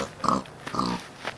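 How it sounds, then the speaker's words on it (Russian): A pig grunts and oinks in a realistic Minecraft animation, three short, close grunts in quick succession with no talk. "Опа, свинюшка."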